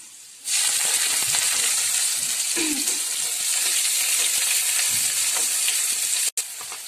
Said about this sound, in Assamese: তেল গৰম হ'ল গতিকে পিঁয়াজ মই দি দিওঁ